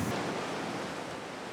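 Big ocean waves break on the rocky winter shore of Ulleungdo island, a steady broad roar of surf and spray that is fairly faint and with no voices.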